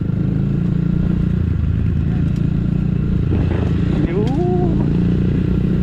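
A Rusi Classic 250 motorcycle rides along a rural road through farmland, its engine a steady, loud, close drone throughout, with a brief voice partway through.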